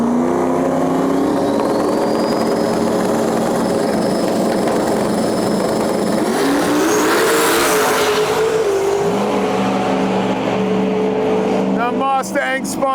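SN95 Mustang with a turbocharged LS engine racing down a drag strip, a loud continuous engine roar that rises in pitch with gear changes, while a commentator talks over it.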